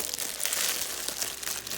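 Close crinkling and squishing of a squishy fidget toy from a fidget toy set, a continuous soft rustling texture with no talk.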